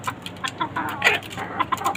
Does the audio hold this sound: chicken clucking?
yes